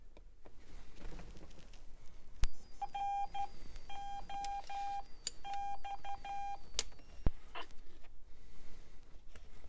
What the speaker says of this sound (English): Now I'm going to turn on the radio.